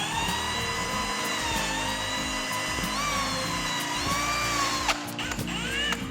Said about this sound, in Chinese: 带着胶布呢，我们就在这儿钻